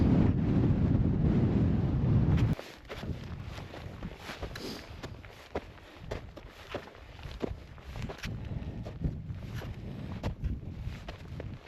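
Strong winter wind on a mountain summit in New Hampshire's White Mountains roars into the microphone. It is loud and buffeting at first, then drops to lower gusts with scattered thumps and rustles.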